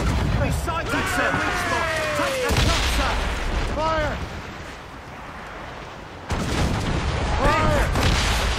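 Naval cannon fire in Assassin's Creed Rogue, heavy booms and rumbling broadsides filling the battle, with crew voices shouting over the loud gunfire throughout.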